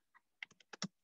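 Computer keyboard typing, a handful of quick soft keystrokes in an uneven burst, close and quiet with no talk.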